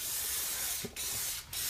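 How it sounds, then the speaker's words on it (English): Aerosol cleaner sprays into the receiver of a Beretta A400 gas-operated shotgun, a close, loud, continuous hiss broken by two brief pauses. "So we're really going to spray this down."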